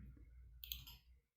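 A single sharp key click, the Enter key pressed on a computer keyboard, sounds crisply and close after a moment of faint low rumble, then fades to silence.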